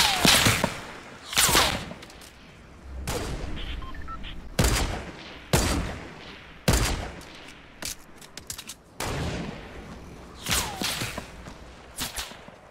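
Rapid bursts of video-game gunfire, including shotgun blasts, crack out in repeated loud volleys with short gaps between them over a steady background rumble.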